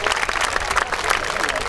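Audience applause at an amateur boxing night in Italy, a brief burst of brisk clapping with crowd noise and some voices mixed in.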